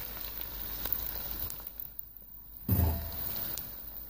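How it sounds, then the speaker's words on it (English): Washed long grain rice poured into a hot pot for turmeric rice, a quiet sizzle followed by a sudden thick burst of crackling as the grains land, then a softer steady frying hiss. "Then now I add my washed rice."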